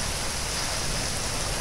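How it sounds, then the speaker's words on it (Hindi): Heavy seasonal downpour pours over a flooded lane, a dense, unbroken hiss of rain filling the whole moment, close and loud with no voices. "इतनी तेज़ बारिश आज मैंने इस सीज़न की पहली और इतनी तेज़ बारिश देखी है आज"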